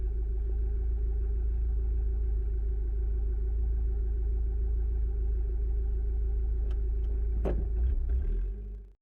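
Off-road vehicle engine labouring steadily up a steep side slope on a rough back trail, a continuous near low rumble that holds throughout, with a few sharp knocks and clatters near the end before it cuts off abruptly.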